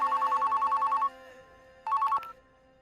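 A telephone rings loudly and close with a rapid electronic trill, first sustained for about a second and then repeated in a shorter burst after a pause, with no voices.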